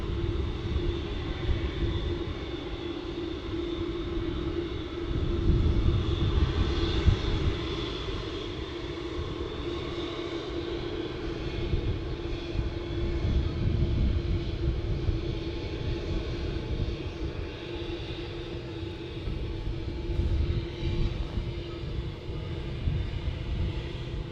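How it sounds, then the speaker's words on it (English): An Etihad Boeing 787 Dreamliner arriving at Manchester Airport, a steady, moderately distant jet roar with a low rumble that swells and eases slightly over about twenty-four seconds, heard without talk. "an Etihad Dreamliner as well just arrived."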